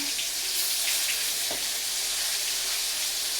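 Prawns cooking in hot oil over a high flame, a dense continuous sizzle close by with a brief clink partway through, no voices.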